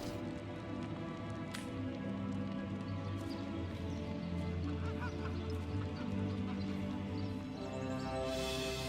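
Fowl clucking and honking from a chicken in the video game Divinity: Original Sin, repeated over a steady layer of outdoor ambience with a pattering, rain-like texture.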